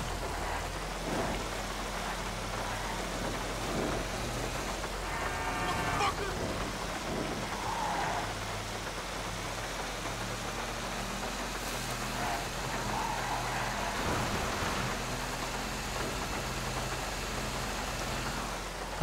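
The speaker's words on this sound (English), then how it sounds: "that rain is what is happening right now" Steady rain falls during a GTA 5 mission, hissing on surfaces as a continuous wash, while music and distant rumbles sit underneath throughout.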